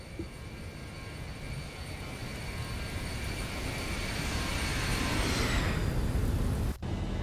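Boeing 737-800 jet in the X-Plane 12 flight simulator rolling and lifting off from Los Angeles International, a steady broadband engine roar that slowly swells louder before cutting off abruptly near the end.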